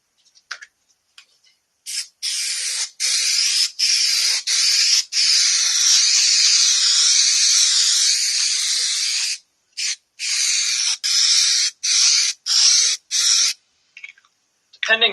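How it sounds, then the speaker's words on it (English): Spray adhesive hisses from a can while radiant floor heating panels are glued in a workshop, in repeated long bursts broken by short pauses, close and loud, with no talking over it. "So we'll spray this out and get this piece attached here."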